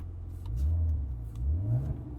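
Exhaust note of a 2020 Maserati Quattroporte heard from inside the car, a muffled low engine drone that swells twice as it revs and eases back.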